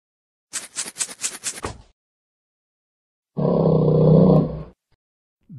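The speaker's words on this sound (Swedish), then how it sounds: "Björn." Cartoon bear roar from a toddler peekaboo app: a series of gruff pulsing growls followed by one long, loud sustained roar, close and isolated against silence.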